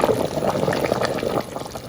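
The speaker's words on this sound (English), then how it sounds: "And now I'm going to add water. It's about 1 litre of water." About a litre of water pours steadily into a pot of lamb curry, a continuous close splashing gush that runs for under two seconds.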